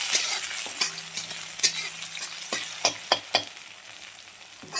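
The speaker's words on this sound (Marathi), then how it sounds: "टोमॅटो व्यवस्थित भाजून घ्यायचं आहे." Onion and tomato fry in a pan for vegetable Maggi noodles, a steady close sizzle with scattered sharp crackles and spatula scrapes, no talking.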